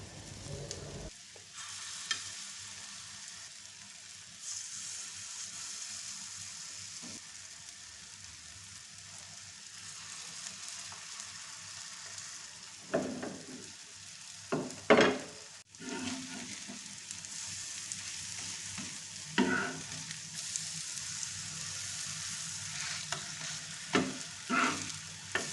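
Jaggery adai batter frying steadily on a hot pan, a continuous soft sizzle with a few louder crackles and scraping bursts partway through, close and with no voices.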